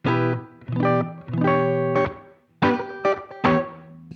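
Clean electric guitar plays sustained chords and a few short stabs, each ringing out with a smooth, spacious plate reverb tail.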